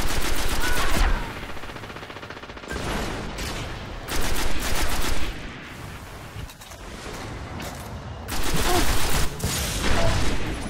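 Automatic weapon fire in Destiny's Crucible Clash mode, several loud sustained bursts of rapid shots separated by quieter gaps with distant booms and mechanical rattles, close and dominant.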